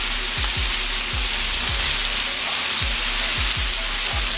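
Bacon fries on a 36-inch Blackstone griddle in a dense, steady close sizzle, with irregular low thumps scattered through it and no talk.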